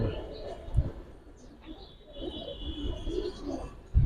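Giribaz highflyer pigeon cooing softly in short low phrases, with someone talking nearby and a faint high tone running through part of the clip.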